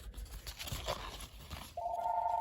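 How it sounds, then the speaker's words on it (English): A phone rings with a steady electronic tone that starts late and holds to the end, heard over a rustling, noisy background. "Sorry about the phone ringing there."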